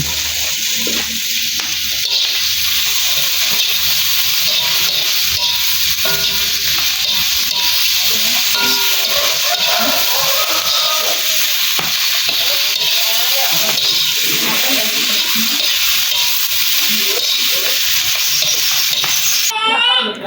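Spring onions tossed into a hot stir-fry pan, a steady loud sizzle and hiss with scraping stirring throughout and faint voices in the background.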